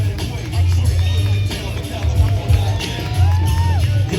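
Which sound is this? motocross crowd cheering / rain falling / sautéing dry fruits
motocross crowd cheering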